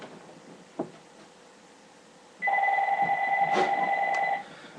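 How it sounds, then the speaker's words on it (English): A telephone rings once in a quiet indoor room, a loud two-tone electronic trill lasting about two seconds after a soft knock and low background hum. "phone is ringing"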